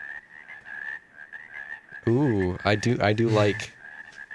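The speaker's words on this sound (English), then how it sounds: "the theoretical concept of frog sounds" Frog croaking from a white noise app, a rapid run of loud throaty croaks over a steady high electronic tone, with a brief spoken remark heard against it.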